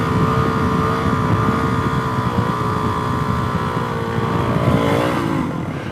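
Suzuki DRZ470 supermoto with a big bore stroker build popping a quick wheelie, a loud continuous engine drone with rising and falling pitch as the throttle works, close to the microphone with wind rushing over it.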